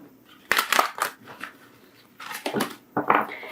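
Tarot cards being shuffled by hand, close-up bursts of crisp riffling and slapping in irregular clusters with quiet gaps between.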